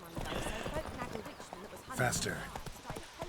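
Roach, a horse in The Witcher 3, gallops with rapid clip-clop hoofbeats under a voice, joined by a brief whinny-like burst midway.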